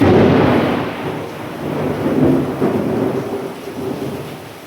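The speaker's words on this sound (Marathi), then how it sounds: "किती भयानक जोर पाऊस आला वारण गिरण हेन तेन इतकं गरजायलंय बापरे" A heavy thunderstorm with thunder rumbling over a dense roar of pouring rain and gusting wind, loud and continuous for the whole stretch with no voices.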